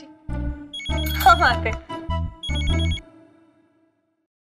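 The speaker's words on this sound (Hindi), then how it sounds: "हमें इनका फोन आ रहा है" A telephone rings in short electronic bursts, several pulses in a row, loud and close, stopping abruptly, with a voice speaking briefly alongside.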